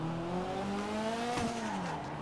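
A car in a Brazilian crime-themed video game, engine droning steadily with a rising pitch, a short tire squeal and a brief impact-like burst midway, with no talking.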